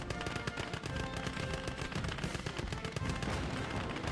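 Rapid automatic cannon fire from a German Panzer I or Panzer II tank in the Gates of Hell WWII battle game, a dense continuous stream of sharp bursts with booming impacts, loud and close.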